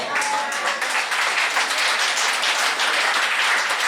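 A church congregation breaks into sustained applause, dense and steady clapping from many hands that fills the room for several seconds, with a faint voice underneath.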